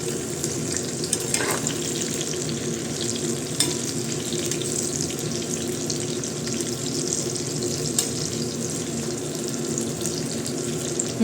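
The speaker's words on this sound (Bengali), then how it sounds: "এই দেখো পোকোড়া ভাজছে" Pakoras frying in hot oil, giving a steady, close bubbling sizzle that holds at an even level throughout, with a few faint clinks and no talking.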